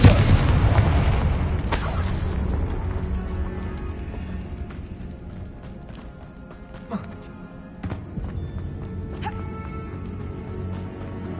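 A Confringo blasting curse from Hogwarts Legacy erupts at the start in a loud, close boom, followed by smaller bursts and impacts over a low rumbling game soundscape.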